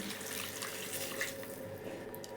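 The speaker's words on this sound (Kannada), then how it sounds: "ಈಗ ಒಂದು ಕಪ್ ವಾಟ್ರ್ ಹಾಕೊತ ಇದ್ದೀನಿ" A cup of water poured into a pan while cooking sweet apple kesari bath, a soft continuous splashing trickle heard close but faint, with no talking.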